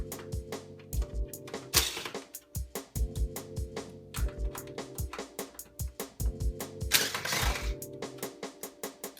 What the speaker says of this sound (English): we're going to remove 4 screws that are holding our top plate in